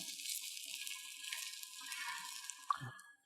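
A spinach and mushroom frittata sizzles steadily in a pan as it begins to set, a soft continuous hiss with a brief utensil knock near the end while it is stirred around the edges.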